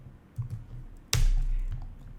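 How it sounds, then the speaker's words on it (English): Close-up taps on a computer keyboard, a couple of light key presses followed by a sharper, louder click, with quiet room noise between them. "press T on the keyboard"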